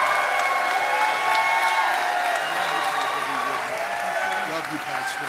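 A church congregation applauds and cheers in a sustained, dense wash of clapping and voices that holds steady for several seconds and eases slightly at the end.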